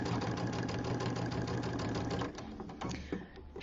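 A sewing machine runs steadily, stitching a quarter-inch seam, its fast mechanical whir loud and close for about two seconds before slowing and stuttering into uneven, lighter stitching.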